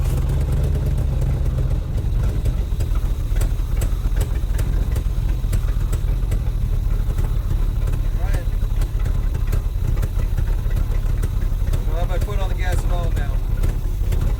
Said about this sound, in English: See if it'll idle now.